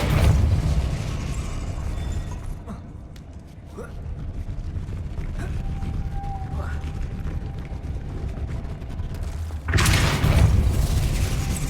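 Depulso spell cast in the video game Hogwarts Legacy, a sharp magical burst followed by rumbling, creaking mechanism sounds, then a loud whooshing blast near the end.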